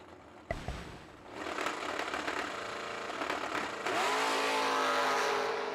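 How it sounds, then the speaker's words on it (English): Camaro and Mustang drag racing cars launch off the line with a sharp crack, then a loud, sustained engine roar that climbs steadily in pitch as the cars accelerate hard down the strip. "Camaro off and running. How about the Mustang?"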